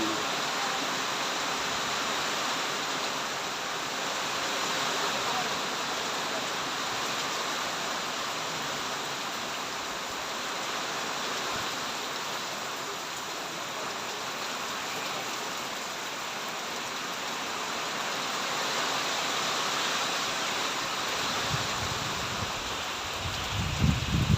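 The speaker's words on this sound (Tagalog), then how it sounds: "ang lakas ang hangin" Strong wind roars across a vegetable farm planted with eggplant, bitter gourd and tomatoes, a loud, steady broadband rush that fills the whole stretch with little change.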